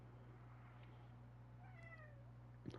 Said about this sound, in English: My kitty is crying.